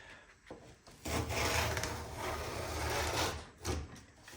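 A sheet of plywood is cut in a few brief rasping strokes, a raspy woody sawing sound, close and fairly quiet, with one longer cut in the middle.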